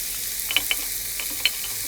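Vegetables hitting a hot pot for a one-pot kofta meal, a steady loud sizzle with a few sharp scraping clicks from the stirring.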